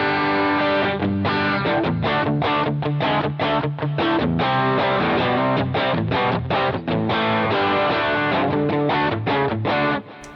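Distorted electric guitar playing a steady run of chords and notes with a crunchy, medium-gain tone, loud and continuous, with no voices.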